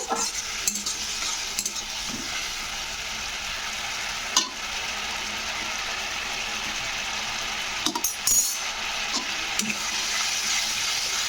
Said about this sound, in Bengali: জলটা দিয়ে মশলাটাকে ভালো করে একটু নাড়াচাড়া করে দিতে হবে